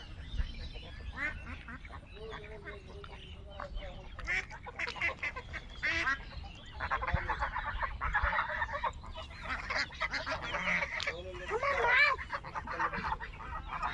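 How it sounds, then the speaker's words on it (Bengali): Ducks quack repeatedly in a loose, overlapping chorus at moderate distance, growing busier toward the end, with faint background noise and occasional low voices. "হাঁসগুলো আবার চলে আসতেছে"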